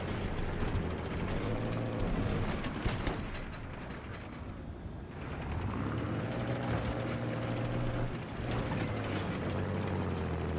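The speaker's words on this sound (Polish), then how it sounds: "w końcu słyszę silnik" A vehicle engine in Battlefield 3 multiplayer drones steadily with layered mechanical hum, dipping briefly midway before revving back up, loud and continuous with no talking.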